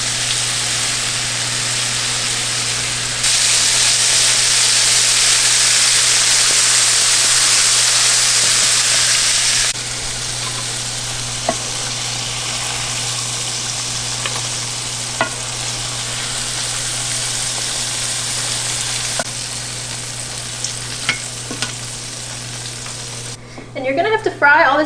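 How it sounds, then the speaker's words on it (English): Calamari deep-fries in hot oil with a steady loud sizzle and hiss, faint scraping as the pieces are stirred through the oil, the frying noise easing slightly partway through before a brief clatter at the end. "You just want to gently move it through the oil to make sure it's all getting fried evenly"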